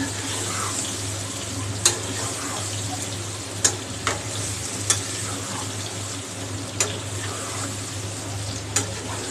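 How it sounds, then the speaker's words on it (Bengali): Bean curry cooking in a pan, with a constant low sizzle and a low hum, plus several sharp clicks from a spoon tapping the pan at spaced intervals. "ভালো করে নেড়ে দেবো"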